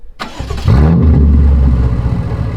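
A BMW V8 with catless downpipes and a straight pipe exhaust starts up from warm: a sharp crank, then the engine catches in a loud, deep burst and settles into a rumbling idle.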